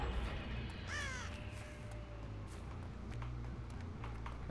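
Crows caw in a video game, a short series of harsh calls near the start over a constant low rumble of game ambience.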